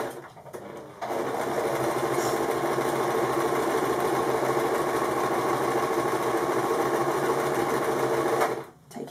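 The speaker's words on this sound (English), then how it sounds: "I have my needle in its far right position so that I can get a quarter inch or very close top stitch" A domestic sewing machine top stitches a fabric candle mat, running in one steady, loud, close whir for about eight seconds before slowing to a stop.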